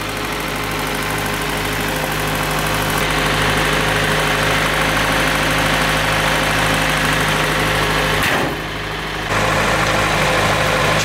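A car engine idles steadily up close with a low, rhythmic chug and rattle, dipping briefly near the end before resuming.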